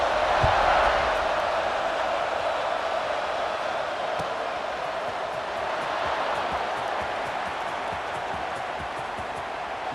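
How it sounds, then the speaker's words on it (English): A stadium crowd roars in the EA Sports College Football 26 video game during a kickoff. The broad, steady wash of crowd noise is loud at first and then holds at a slightly lower level for the whole stretch. "Kickoff unit is out there again, and this crowd is feeling themselves after that last drive"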